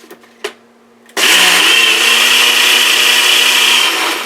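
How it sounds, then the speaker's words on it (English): Eggs shaken hard inside a closed container, a loud continuous rattling churn that starts abruptly after a few soft knocks and runs steadily to the end. "flip it over, shake it up a little because we want to get it mixy"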